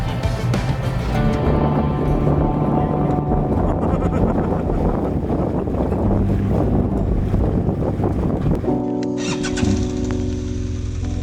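A ferry crossing the Kubangu River in Angola, a steady loud rumble of engine and water churn with heavy wind buffeting the microphone throughout, shifting near the end.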